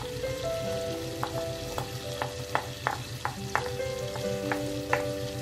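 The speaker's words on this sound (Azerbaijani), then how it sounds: "Qazanımın içərisində kərəyağı əlavə eləmişəm. Üzərinə ilk əvvəl doğradığım soğanları əlavə edirəm." Chopped onions frying in butter in a cooking pot, a steady close sizzle with repeated sharp scraping taps of a utensil stirring through the pan, no voices.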